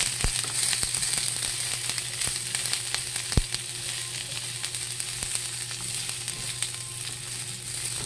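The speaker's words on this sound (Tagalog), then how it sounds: "Isama na yung bawang." Garlic frying in a hot pan with almost no oil gives a close, steady sizzle and crackle, broken by a few sharp clicks of stirring.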